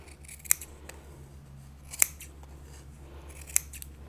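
Scissors snipping yarn warp ends on a loom: three crisp, isolated close-up snips spaced about a second and a half apart over a faint steady background hum.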